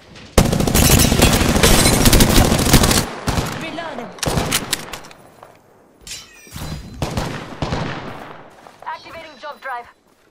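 Gunfire in the Apex Legends video game: loud, near bursts of rapid automatic shots, one long sustained volley followed by several shorter bursts and scattered single cracks, with a voice speaking between the shots.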